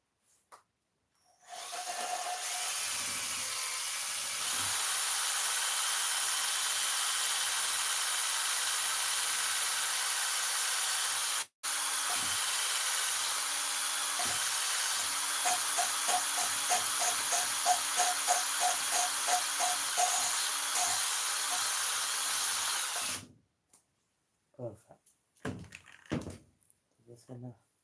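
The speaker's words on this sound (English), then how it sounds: "We're using a drill machine and the plunger," An electric drill with a plunger grinds engine valves into their seats by the old lapping method, a steady high whir with rapid ticking that runs about twenty seconds, stops briefly, resumes, then cuts off and leaves a few scattered clicks.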